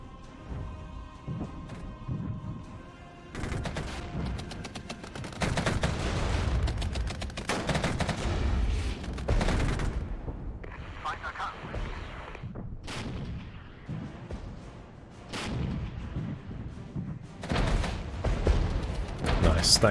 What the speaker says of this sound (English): Let's give them some artillery.